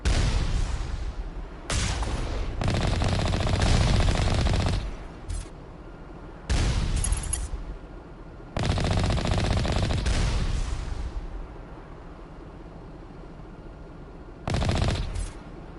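Bursts of rapid automatic gunfire rake toward the player in a space shooter game, several loud volleys of a few seconds each separated by quieter gaps, with lingering rumble after each burst.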